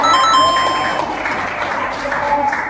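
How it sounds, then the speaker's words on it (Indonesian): Classroom applause from a group of students, a broad steady wash of clapping that holds for a few seconds and fades slightly, with a few faint tonal beeps and some overlapping voices. "Tepuk tangan kita semua."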